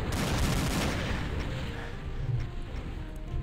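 Rapid pistol gunfire in a Doom mod video game, a dense burst of sharp shots blending into a continuous rumbling barrage that fills the short stretch at steady loudness.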